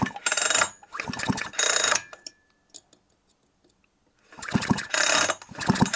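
Recoil starter cord of a broken-down chainsaw with no ignition being yanked in repeated hard pulls, ratcheting mechanical bursts in two groups separated by a quiet pause, close and loud, with no speech.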